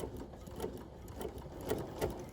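A sewing machine stitches a quilt block in short, rhythmic bursts of mechanical whirring and clicking, steady and fairly close with no talking.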